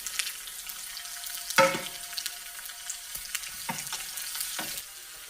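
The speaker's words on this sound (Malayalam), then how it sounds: "കടുക് പൊട്ടിയിലേക്ക് ഉഴുന്ന് പരിപ്പ്, ഉള്ളി അരിഞ്ഞതും കൂടെ ചേർക്കാം." Mustard seeds, urad dal and chopped onion fry in hot coconut oil, a steady bright sizzle broken by a few sharp spatters and stirring scrapes, close and fairly loud with no speech.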